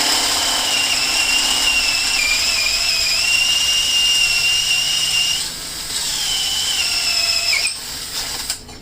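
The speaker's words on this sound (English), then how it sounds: "This is a 1/2-inch bit. Just going to drill" A power drill bores out a strut hole with a 1/2-inch bit during lift fabrication on an off-road Audi, giving a steady, loud, high-pitched whine that dips briefly near the middle and winds down toward the end.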